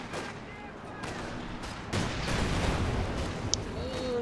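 Pack howitzer shells hitting a Kettenkrad in the World War II strategy game Company of Heroes 2, with muffled booming impacts and crackling gunfire in a busy battle mix.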